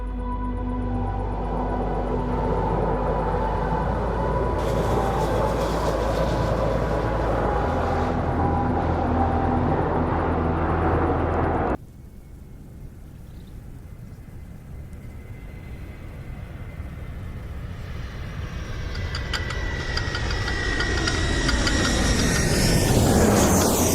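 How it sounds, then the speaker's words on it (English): Low-flying planes passing overhead in a loud, sustained roar that drops off sharply midway, then builds again as another aircraft approaches, with a rising and falling whine near the end. "I wouldn't be able to count how many planes they're flying over right now."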